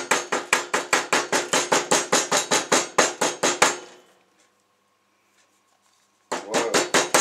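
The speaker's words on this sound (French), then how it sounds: "Et tout en tournant, vous allez donner des petits coups de marteau." A small hammer taps a mosaic pin for a knife handle as the pin is turned, giving a fast, steady run of close, sharp knocks. The taps stop for about two seconds, then resume at the same pace.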